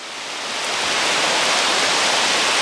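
Water flowing through a restored water body makes a loud, steady broadband rush that swells over the first second and then holds constant, close and continuous with no voices.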